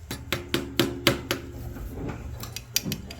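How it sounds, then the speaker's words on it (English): Hammer striking a screwdriver against a stuck part on a Troy-Bilt garden tiller, giving about six sharp metallic taps in a steady rhythm and then a few scattered lighter knocks, close and clear. "Got me a hammer and a screwdriver."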